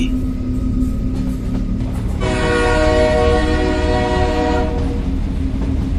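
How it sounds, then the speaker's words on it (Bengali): Bridge-crossing train: a loud, steady rumble and rattle of wheels, joined midway by a long sustained horn blast that drops away before the end. "ঝমঝম শব্দ তুলে একটি ব্রিজ বেরোচ্ছে ট্রেনটা"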